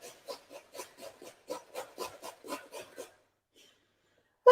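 Carrots scraped against a hand grater in a home kitchen, about a dozen quick rasping strokes in an uneven rhythm, close and fairly quiet, then a pause before a brief louder sound at the end.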